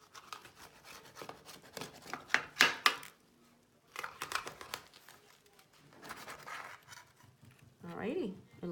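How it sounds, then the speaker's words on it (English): A knife cuts through a hot, crispy baked spanakopita pie with crunchy crackling cuts in short bursts, a person talking between the cuts. "So now we're gonna cut a piece and see what we made"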